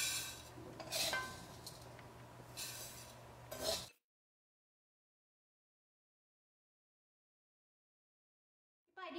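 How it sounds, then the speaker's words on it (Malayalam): Crisp-fried rice for a traditional Kerala ari unda is scraped from a pan onto a plate, giving close scraping and clinking of utensils on metal for a few seconds before the sound cuts to silence. "ഇനി ഇത് നമുക്ക് ഒരു പ്ലേറ്റിലേക്ക് മാറ്റാം."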